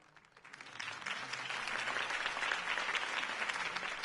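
Applause for Harvey Dent's campaign speech swells from a crowd in Batman: The Telltale Series, dense steady clapping that rises quickly and holds at a moderate distance.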